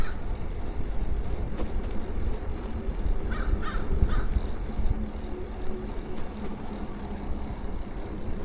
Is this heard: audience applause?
no